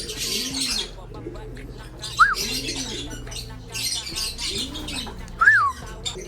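Racing pigeons, blue check and blue bar birds, coo in repeated low rolling phrases in a loft, with a few sharp chirps and squawks mixed in close by.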